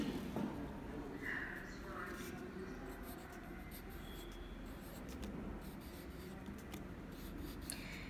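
Pen or pencil scratching out a short handwritten sentence in an English creative-writing lesson, with continuous soft strokes over a steady low room hum and no clear speech.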